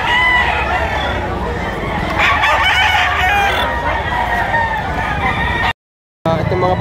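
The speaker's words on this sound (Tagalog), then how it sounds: "Gandang manok nito." A rooster crows loudly at a poultry auction market in Lipa, Batangas, amid a noisy crowd of chatter and other fowl, the call rising clearly over the background before a brief silent gap.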